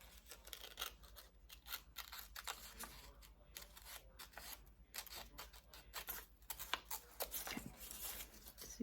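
Scissors cutting paper bunny ears for an Easter honeycomb bunny craft make quiet, close snips and rustles, repeated irregularly with short pauses between cuts.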